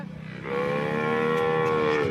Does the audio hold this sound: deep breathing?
no